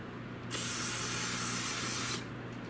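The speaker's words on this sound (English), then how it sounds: "As we spray things, we can get all the dirt, dust, and grime to come out the other side" A single burst of water spray hisses for about a second and a half, rinsing out dirt and grime. It starts and stops abruptly against a quiet background.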